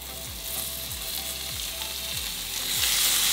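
Bacon and ground meat frying in a pan give a loud, continuous sizzle heard up close, with a low rhythmic thudding underneath and no voices.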